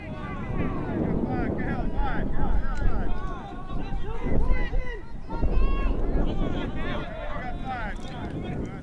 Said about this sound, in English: You can hear the wind a little bit.